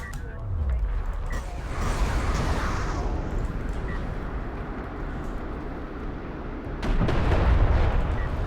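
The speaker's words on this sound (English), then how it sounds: "That was a nice split of missiles there" Missiles exploding in the real-time strategy game Deserts of Kharak during a tournament match, a dense rumbling barrage of blasts that swells louder near the end.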